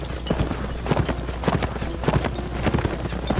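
Horse hooves in the Mount & Blade Warband video game, a brisk continuous clip-clop of galloping beats at close range, with no talking.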